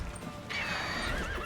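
Roach, a horse in the video game The Witcher, clip-clops and whinnies in a brief burst of game audio, with a bright, sustained neigh starting partway through over steady background sound.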